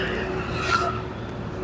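Street traffic on a busy, crowded road, a passing car's engine and tire noise with a brief rising whine, moderately loud and close, with no talk.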